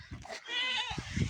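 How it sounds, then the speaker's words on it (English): A goat bleats on a farm, a wavering cry with layered harmonics lasting about half a second, set among low thumps and shuffling noise close by. "Goat."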